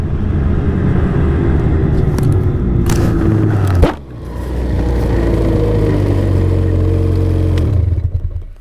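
A 2025 Ski-Doo MXZ 850 Turbo R Competition Package snowmobile, a two-stroke turbo with capacitor start, runs close by with a loud, steady low engine drone that dips briefly midway, then resumes before trailing off.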